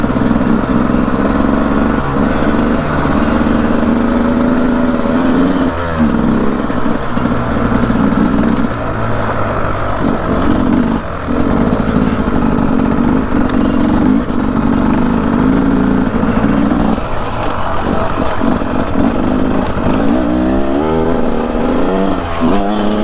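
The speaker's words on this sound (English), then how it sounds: "now we are on the 250RR 2-stroke with electric start" The two-stroke engine of a Beta 250RR electric-start dirt bike drones loudly and continuously, with fluctuating revs and a buzzy, raspy exhaust heard up close while riding.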